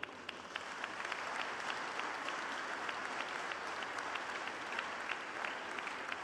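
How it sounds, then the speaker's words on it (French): Distant, faint applause from an audience during a speech by Emmanuel Macron at the VivaTech technology event: a steady wash of many hands clapping, low in level and continuous throughout. "oui, vous pouvez applaudir."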